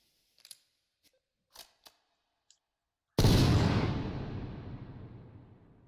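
Proximity mines go off in a video game as one loud, sudden blast that decays into a long rumbling tail, preceded by a few faint clicks.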